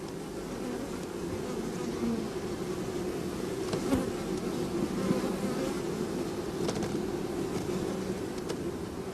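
Honey bees buzzing around an open beehive during comb and brood box work, a dense steady drone of many insects close by, with occasional individual bees passing louder.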